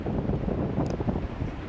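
Strong wind gusts buffet the microphone at a seaside cricket ground in Gibraltar, a rough, continuous low rumble with faint surf-like wash behind it and no speech.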